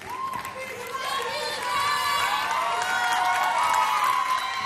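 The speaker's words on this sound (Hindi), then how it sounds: "मैंने बोला सबको खुश कर दो, सबको खुश कर दो, जोरदार तालियां" A studio audience at a televised dance competition applauds and cheers loudly and continuously, a dense wash of clapping and shouts under a presenter's voice.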